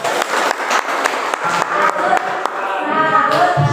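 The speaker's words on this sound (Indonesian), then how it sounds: "Tepuk tangan Pak Ustadz." Clapping for a religious teacher in a teachers' training session, distinct close hand claps in a loose rhythm, giving way to a busier crowd wash with murmuring and some cheering toward the end.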